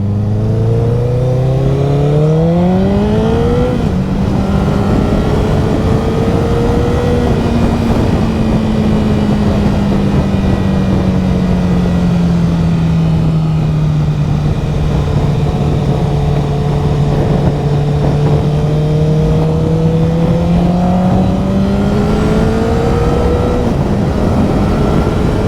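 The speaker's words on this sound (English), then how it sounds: "There's loads and loads of traffic" A motorcycle pulls away and climbs through the gears, its engine note rising then settling into a steady loud drone with wind rush, riding through UK road traffic.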